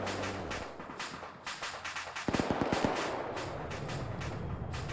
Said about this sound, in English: There's the A-10 strafing one of the targets.